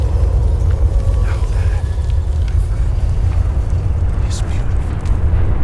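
Megaton nuclear bomb detonation in Fallout 3, a loud, continuous low roar and rumble rolling on without letup, like a long blast wave, with a voice speaking over it.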